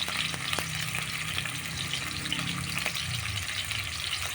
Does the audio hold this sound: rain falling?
no